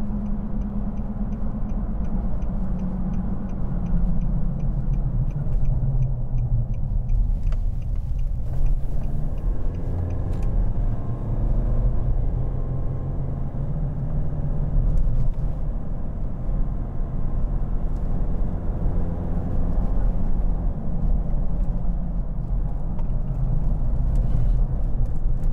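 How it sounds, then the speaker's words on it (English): A 2015 Nissan Navara 2.5 dCi pickup drives along a country road with a steady low rumble and drone throughout, consistent with a suspected worn near-side front wheel bearing. "I'm thinking near side wheel bearing, not tire noise"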